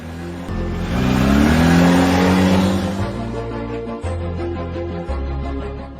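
A car engine revs up loudly and holds a high roar before settling to a steady lower hum, heard close with shifting engine tones.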